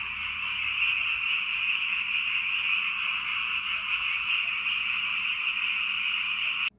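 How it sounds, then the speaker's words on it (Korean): Frogs croak in a dense, continuous chorus on a rural summer night, a steady high-pitched trilling wall of calls that fills the whole stretch before cutting off abruptly at the end. "이 소리는 바로 개구리 소리였어요"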